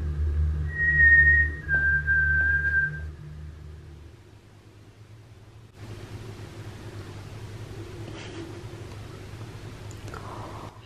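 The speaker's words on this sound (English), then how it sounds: "we all hear a whistle come back to Scarlett" A few short, clear whistled notes sound in the first seconds inside an old prison, then give way to faint background hiss and muffled noise.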